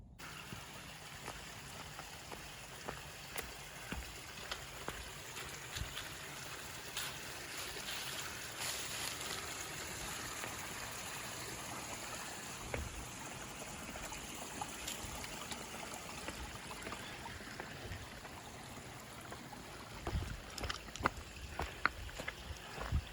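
A river flowing along the Appalachian Trail, heard as a steady broadband rush of moving water that holds evenly throughout, with a few small splashes and knocks near the end.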